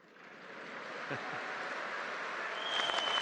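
An audience claps at the inauguration of a convention centre: a broad wash of applause that grows from soft to full and holds steady, with a brief voice over it near the end.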